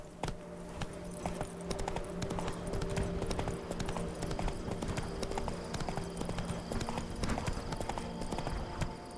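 Roach the horse galloping in The Witcher 3: Blood and Wine, a quick, steady run of hoofbeats that clatter continuously over a low ambient game hum.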